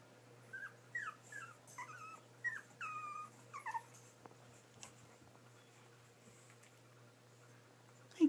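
A litter of puppies makes a series of soft, high whimpers and yips close by in a quiet room, followed by a few seconds of near silence.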